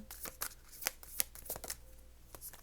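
Tarot cards are shuffled by hand in a quiet room, a series of brisk riffling and slapping bursts close to the listener, with no talking over them.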